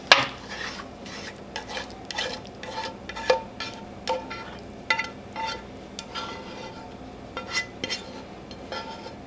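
A taco tater tot casserole mixture being dumped and scraped into a baking pan, with repeated clinks of a utensil against the dish and soft squishy thuds at an uneven pace, close by and moderately loud.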